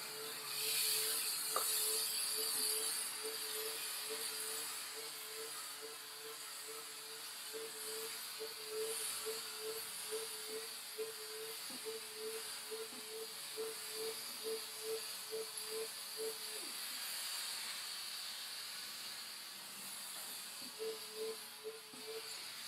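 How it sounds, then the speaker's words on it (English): Clothes steamer running on a scarf, a steady moderate hiss with a faint repeating tonal pulse from the unit, continuous and close, with no talking over it. "then I just flip it upside down and steam this side."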